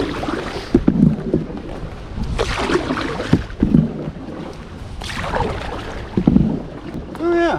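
A foldable origami canoe from MYCANOE is paddled across a duckweed-covered pond, with rhythmic splashes and strokes, wind noise buffeting the microphone and occasional knocks against the hull.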